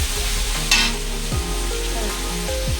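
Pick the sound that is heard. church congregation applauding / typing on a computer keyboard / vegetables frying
vegetables frying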